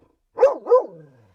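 A dog barks twice in quick succession, close and loud, the second bark trailing into a falling whine, from inside a parked RV.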